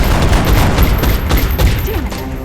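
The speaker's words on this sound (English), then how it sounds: "Helen and Mama Bear opened fire on them and missed" Rapid, dense automatic gunfire in XCOM: Enemy Within as soldiers open fire on aliens near a building, loud and continuous with overlapping bursts and no pauses.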